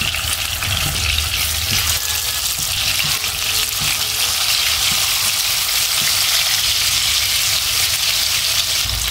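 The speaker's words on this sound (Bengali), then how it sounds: "তো মাছগুলো আমি এক এক করে দিয়ে হালকা করে ভেজে নিব।" Prawns frying lightly in soybean oil in a wok, a steady, loud, continuous sizzle that holds evenly throughout without any talking.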